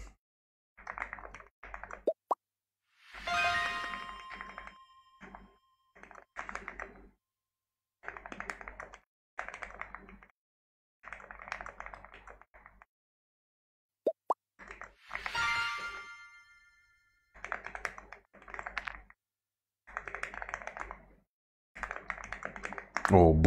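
Computer keyboard keys tapped in short bursts of clicking, a close, crisp patter broken by pauses, with people chatting casually in between and a few sharp knocks.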